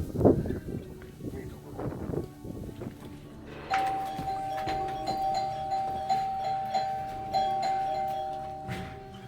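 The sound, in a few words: doorbell ringing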